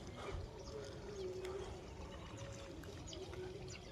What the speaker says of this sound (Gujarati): આ સાઈડ પાણી ચાલુ કરી નાખ્યું છે।